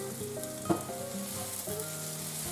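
Butter sizzles and crackles steadily as it melts and foams in a hot pan for beef stroganoff, a constant close frying hiss with a small clink partway through and no voices.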